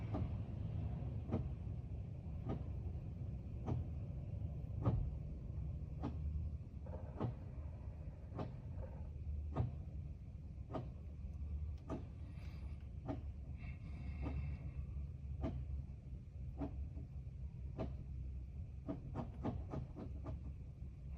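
An Alfa Romeo 159 2.2 JTS Selespeed gearbox actuator cycles through the gears during calibration, giving a steady series of sharp mechanical clicks and clunks about a second apart, close and alone over a low hum.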